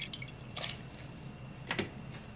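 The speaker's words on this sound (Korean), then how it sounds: "깨끗하게 물기를 꼭 짜놓겠습니다." Rinsed water parsley (minari) is squeezed by hand, and a few soft drips and splashes of water fall close by, two brief bursts against a quiet background with no speech.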